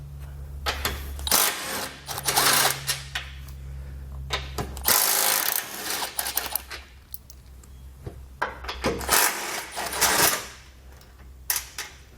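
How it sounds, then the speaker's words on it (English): Socket wrench with a 14mm socket backing out bumper bolts on a 2017 Toyota: repeated short ratcheting bursts close by, separated by pauses and low background hum. "You want to grab a 14mm socket and pull all of them out."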